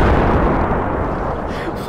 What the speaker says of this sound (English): Oh, no, you're just yeeting grenades!